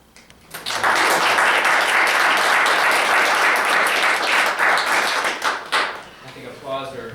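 Audience applause fills a school board meeting room, rising quickly into sustained loud clapping for several seconds before thinning out, with a voice starting to speak at the end.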